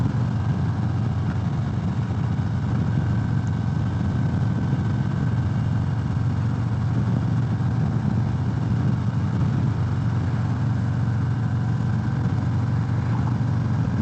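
A 2018 Harley-Davidson Sport Glide motorcycle engine runs steadily with a continuous low rumble, close and fairly loud, and no voices are heard over it.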